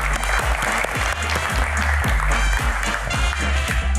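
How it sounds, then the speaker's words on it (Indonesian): Studio audience applauds guest Ilham Akbar Habibie on an Indonesian talk show, a steady, dense burst of many hands clapping with loud low thumps, sustained throughout without talk. "Tepuk tangan lagi untuk Pak"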